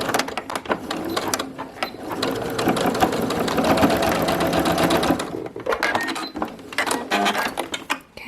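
A sewing machine stitches a fabric pocket piece about a quarter inch from the edge, running in a steady whirring, clattering burst for several seconds before stopping and restarting in shorter runs, loud and close.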